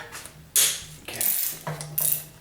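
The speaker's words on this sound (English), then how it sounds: "I might be able to get that with a socket now" A socket wrench ratchets on a rusty 13 mm bolt of a 4.7 Dodge crate engine, in three or four short, bright metallic clicking bursts with brief pauses between them.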